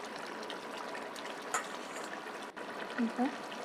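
Rohu fish curry bubbling in a pan on the stove, a faint steady simmer with soft gurgles and a couple of brief clinks near the end.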